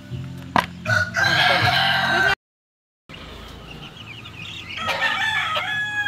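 A rooster crows loudly nearby amid clucking domestic chickens, the sound cutting out briefly before more crowing and clucking resume.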